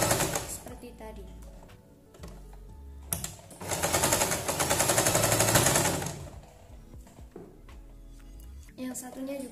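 Sewing machine stitching a patchwork fabric shopping bag, its rapid mechanical chatter running in bursts that swell loud mid-way, then easing, with a voice talking at the start and end.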